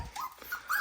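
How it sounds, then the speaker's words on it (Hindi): A thin, weak Gultair-breed dog, one of several strays, whimpers in short, high, plaintive whines close by, with two or three brief cries over less than a second. "ये गुलटेर नस्ल के काफ़ी कमज़ोर हैं"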